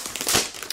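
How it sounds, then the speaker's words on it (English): Protective plastic film being peeled off a new 11.6-inch MacBook Air, a brief close crinkling and crackling rustle that swells in the middle and fades, with no talking. "Let's go ahead and peel off the plastic."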